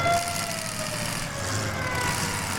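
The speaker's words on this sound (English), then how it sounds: "And there's the siren." A siren at a county fair destruction derby wails with a gliding, falling tone over a rumbling engine-like background, fairly loud and close, with no talking.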